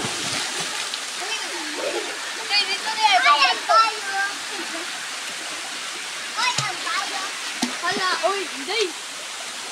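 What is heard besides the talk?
Busay Falls waterfall in Lugait, Misamis Oriental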